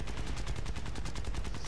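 Rapid, continuous machine-gun fire in the aircraft combat game War Thunder, dense repeating shots that fill the whole moment at a loud, even level.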